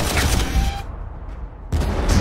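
Gunfire and shelling crash through a Warhammer 40000 Armageddon battle, dense loud bursts at the start, a brief lull, then the barrage resumes just as hard.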